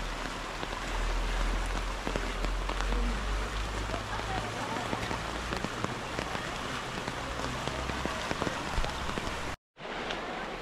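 Steady rain patters on surfaces nearby in an alpine national park by a river, with dense drips and a low rumble underneath, continuing until a brief cut near the end.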